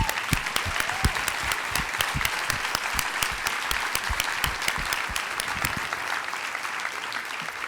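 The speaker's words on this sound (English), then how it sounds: "Please join me in a round of applause for them." A large crowd at the Seattle Metro Chamber's 143rd annual meeting gives Chamber staff a steady, even round of applause, loud and continuous from start to finish.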